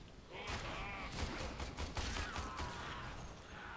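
Weapon switch to a pistol in Warframe: mechanical clicks and rattling as the gun is drawn, mixed with steady game ambience and brief clattering sounds.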